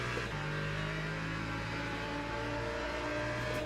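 Race cars on the banking at Daytona in Le Mans Ultimate, a continuous loud engine drone with steady droning tones and a slight swell as cars pass, no talking.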